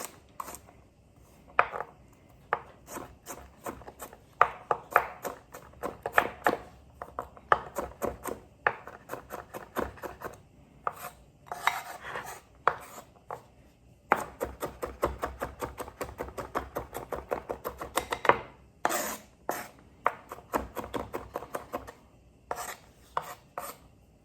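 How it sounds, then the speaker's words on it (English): A knife chops garlic on a cutting board in quick, uneven bursts of sharp taps, close and fairly loud with brief pauses between runs. "Now I'm going to go ahead and just chop up my garlic."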